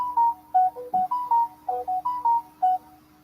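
A phone notification ringtone chimes repeatedly during a livestream, a quick melodic run of bright electronic tones in a steady patterned rhythm, loud and close with no talking over it.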